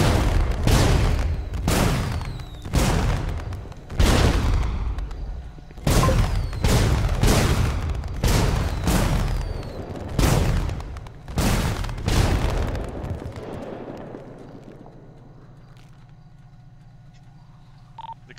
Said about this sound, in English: he's setting off fireworks inside the building